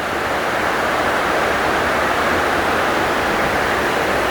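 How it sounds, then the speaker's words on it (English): Amity Creek flowing into Lester River near Lake Superior, a loud, continuous broadband rush of moving water with no pauses or voices. "This is where it flows into Lester River."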